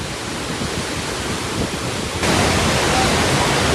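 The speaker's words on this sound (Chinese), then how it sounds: "所以叫做壶口瀑布，太有气势了啊！" Hukou Waterfall on the Yellow River roars as a steady, dense wash of rushing water that grows louder partway through and stays constant to the end.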